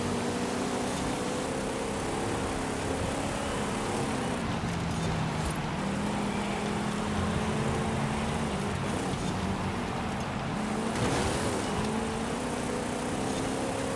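Plymouth Belvedere WRC rally car in Forza Horizon 5, its engine droning steadily throughout with shifting pitch as it accelerates and shifts, a continuous loud roar with no talk.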